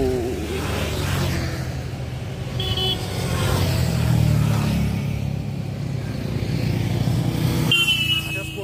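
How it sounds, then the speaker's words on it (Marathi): A motorbike passes along a village road, its engine a steady, fairly loud rumble that swells around the middle and fades, with a horn-like tone at the end and faint voices underneath. "बाईक गेलं की जरा भारी वाटतं."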